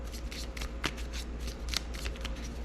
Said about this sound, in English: we'll give all these a shuffle here for the start